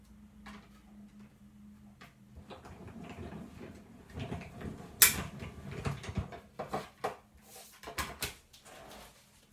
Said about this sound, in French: je viens placer mon die rond pour venir faire l'ouverture. Et pareil, dans la machine de découpe